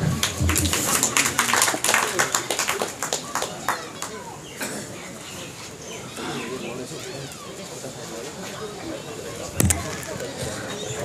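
Audience at a Nepali poetry reading breaks into brisk applause that swells early and fades after a few seconds, with a lone speaker's voice continuing over the thinning claps.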